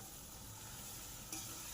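Tomatoes fry in hot oil in a pan for a chicken gravy, giving a steady, close sizzle with light stirring throughout and a slight stir-clatter near the end. No voices are present.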